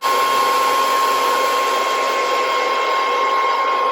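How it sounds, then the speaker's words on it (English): A hair dryer drying a lace wig blows with a constant loud whooshing roar and a steady high whine, running without pause from start to finish. "we're gonna hit it with the blow dryer"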